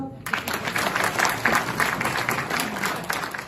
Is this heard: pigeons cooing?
no